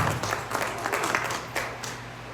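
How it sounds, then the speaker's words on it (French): Applause from a church congregation, a steady wash of clapping from many hands filling the room at moderate loudness, continuing evenly without pause. "We clap for the Lord."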